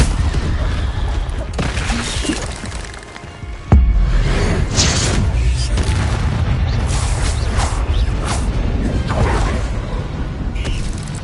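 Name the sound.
Confringo blasting curse explosion in Harry Potter video game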